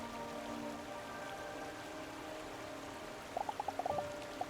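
Rising water in the video game Ddinosaur with Double D's, a steady low rushing wash that fills the scene, with a few faint bright plinks near the end.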